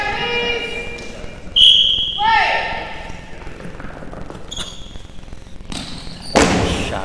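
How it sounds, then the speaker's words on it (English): A halftime buzzer sounds at an indoor goalball tournament, a short sharp tone followed later by a broader burst, heard over an announcer's running commentary and hall ambience. "No time called, and buzzer sounds, and first half in the books."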